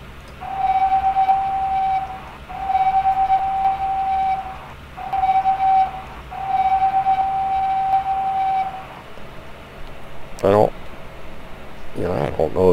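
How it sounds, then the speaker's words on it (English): A rotary snow plow and locomotive whistle in Train Simulator Classic give a sustained high-pitched whistle tone in four long blasts with short gaps, over a steady mechanical rumble, followed by two rising screechy sweeps near the end. "The rotary has this kind of high-pitched little screechy..."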